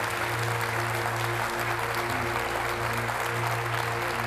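Studio audience at a Brulé and SDPB 50th anniversary celebration breaking into sustained applause, a dense even patter of many hands with a low steady hum beneath it.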